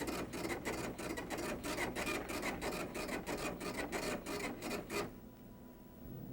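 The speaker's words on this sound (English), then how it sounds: "It's printed on the screen and also printed on the printer." An old computer printer prints a DOS directory listing, a fast rasping buzz of print-head passes in quick regular bursts that stop abruptly near the end, leaving quiet hiss.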